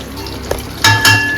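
Potatoes fry in a wok while a utensil scrapes and clatters against the metal a couple of times.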